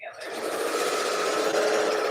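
Domestic sewing machine chain piecing quilt pieces, a steady, close whirring hum running continuously after a quick start-up, alone without talk.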